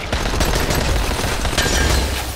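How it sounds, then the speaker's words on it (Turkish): Rapid gunfire from the agha's gun in the video game Dying Light, a dense loud burst of repeated shots running continuously with no pauses and no talk. "Ağanın silahıyla indireceğim bunları da."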